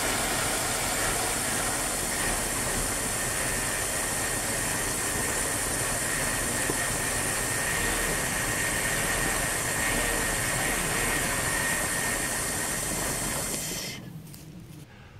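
A 1979 Dodge W300 truck engine cranks after sitting for 13 years, a dense, steady mechanical roar holding for about fourteen seconds before cutting off abruptly near the end.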